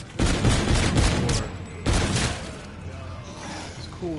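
Rapid gunfire from shooting zombies in a Call of Duty-style Zombies game, two dense loud bursts of shots with a short gap, then quieter background game sounds.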